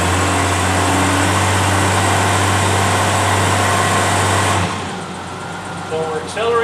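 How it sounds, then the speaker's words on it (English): A car engine working under load in drive, a loud steady mid-range drone that holds for about four and a half seconds, then drops away to a quieter idle with faint clicks near the end. "Put it in drive, load the engine."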